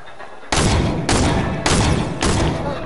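Four heavy, booming gunshots in Fortnite, loud and evenly spaced about half a second apart, each with a short decaying tail and no talk over them.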